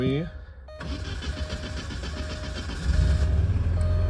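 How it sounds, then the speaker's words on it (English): An Alfa Romeo 115 Spider Veloce S4 is started by push button: the starter whirs briefly, then the engine catches and settles into a steady, loud running rumble that swells slightly toward the end. "So in this particular car, rather than crank it right here, we get the power going"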